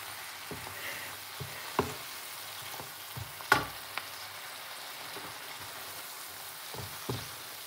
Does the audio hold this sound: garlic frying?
yes